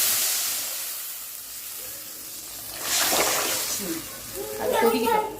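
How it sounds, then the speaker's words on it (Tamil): Tamarind-tomato water for rasam is poured into hot oil, bursting into a hissing sizzle that swells in two surges after a quieter stretch of steam. "இப்போ புளி தக்காளி கரைச்சி வச்சுக்கிறேன், இதில் ஊற்றிடலாம்."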